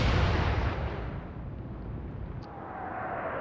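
A salvo of naval guns fires in the Atlantic Fleet video game during the Battle of the River Plate, a single loud boom at the start that decays into a long rolling rumble.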